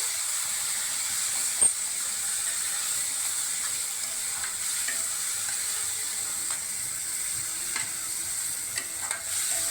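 Steady hiss of catla fish curry masala with ground curry leaves frying in a pan, broken by scattered scraping clicks as a spoon stirs it, close and continuous with no voices.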